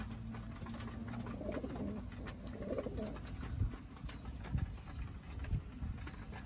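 Pigeons in a loft in Pensacola, Florida coo softly in low murmuring bursts, joined by scattered taps, wing shuffles and light thumps against a steady background hum.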